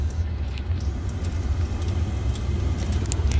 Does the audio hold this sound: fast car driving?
yes